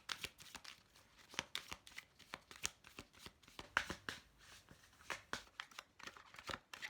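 Tarot cards being shuffled by hand, a quick run of riffling, slapping bursts close to the listener, fairly quiet overall with no speech.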